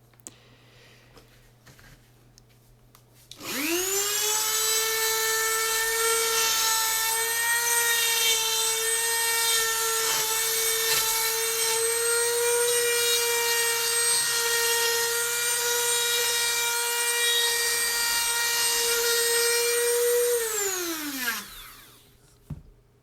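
High-speed rotary tool cutting a rosette channel into an acoustic guitar top, one long steady motor whine lasting close to twenty seconds before winding down, near and loud with no talk.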